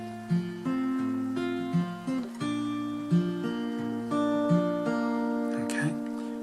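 Acoustic guitar plays a slow fingerpicked bar of a song in a cover arrangement: clear, ringing plucked notes over a repeating bass pattern, close and steady, with no talking.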